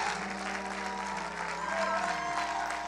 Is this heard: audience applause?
yes